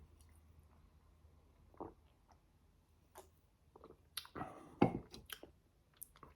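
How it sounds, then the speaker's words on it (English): Loud, close chewing while eating food from a pantry hamper, with scattered wet crunches and smacks that build into a denser burst of biting and munching near the end. "I apologise to all the people that don't like loud chewing, but when I eat stuff, it's going to happen"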